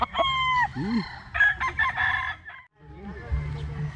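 A yellow-legged Sweater Gilmore gamecock crows close by in a backyard, one full crow followed by clucking and a shorter call, with a little background chatter.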